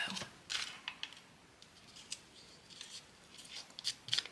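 Paper being folded and creased for an origami bat, faint close crinkles and sharp little snaps scattered irregularly over a quiet background.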